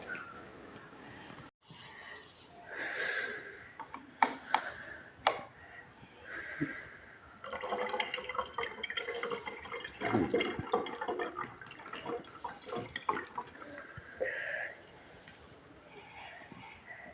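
Water poured into a plastic bottle already holding oil, a running, gurgling fill with splashy bursts that grows louder partway through, with some handling knocks nearby.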